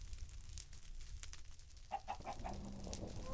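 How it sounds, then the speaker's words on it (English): A chicken gives a short run of soft, faint clucks over a low background hum. "That's a chicken."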